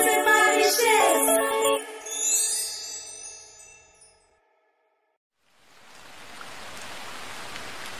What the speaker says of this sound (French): Oh là là, la pluie!